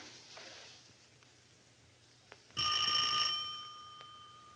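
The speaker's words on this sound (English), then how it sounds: "stop ringing that bell" A brief bright bell ringing, a metallic ring lasting under a second, then fading out over a quiet background.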